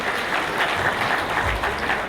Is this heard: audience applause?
yes